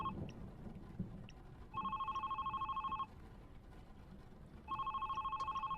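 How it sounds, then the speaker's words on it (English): A telephone rings in the video game The Red Strings Club, two electronic ring bursts about three seconds apart, clear and moderately loud over a quiet background hum. "Should I pick up the phone?"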